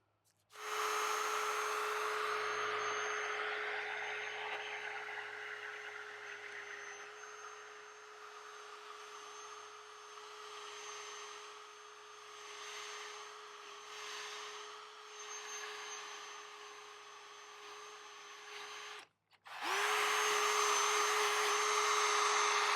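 Power sander with 800 grit white discs smoothing a car headlight lens: a loud, steady whining motor with a rushing grind that wavers as pressure changes, briefly stops near the end, then starts again.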